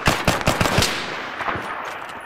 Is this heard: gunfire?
yes